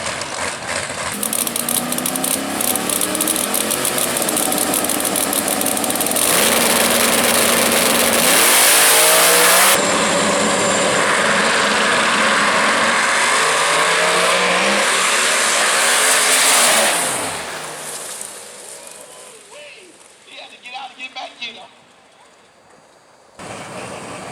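Drag race cars, a Ford against a Chevy at a drag strip, launch and roar loudly down the track with rising revs and gear shifts, then the noise fades away after about seventeen seconds.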